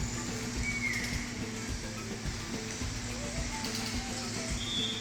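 Recorded jungle ambience of birds and other animals plays in a painted restaurant corridor in Panama City: faint chirps and calls over a steady hum with a watery wash, continuous and moderately distant.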